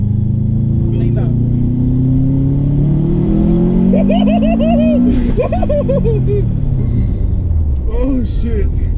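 A 2005 Subaru STI engine revs up loudly and climbs steadily in pitch, with rising whines and fluttering blow-off bursts in the middle and again near the end, heard close and continuous.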